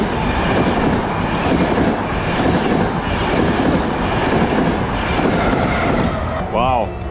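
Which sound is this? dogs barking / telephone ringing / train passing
train passing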